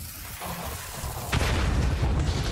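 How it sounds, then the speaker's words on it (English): A grenade explodes in a World War I machine gun nest during the Battle of the Somme in Valiant Hearts, a sudden loud boom at about one and a half seconds that swells out of rumbling battlefield noise and keeps thundering afterward. "Freddy should be able to throw a grenade into the machine gun nest"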